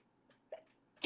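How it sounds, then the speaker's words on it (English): A single sudden sneeze bursts out loud and close at the very end, after a few faint breathy sounds in near silence. "I just sneezed."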